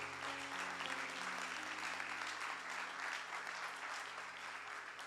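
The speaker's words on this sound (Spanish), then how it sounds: "De pie y dele un fuerte aplauso al Señor." A standing church congregation claps together, a steady wash of applause with a faint sustained musical tone underneath, holding at an even level throughout.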